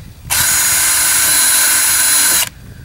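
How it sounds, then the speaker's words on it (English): A small bit drilling holes through a garden container lid: one steady, loud, high-pitched power-drill whine lasting about two seconds, starting and stopping abruptly with no talk. "I'm just going to drill through the lid here, spread the holes fairly evenly around"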